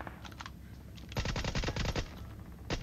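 Shotgun fire from a double-barrel in the PUBG Mobile battle royale game, a loud burst of rapid overlapping shots in a dense cluster, with a couple of earlier muffled reports and one more blast at the end.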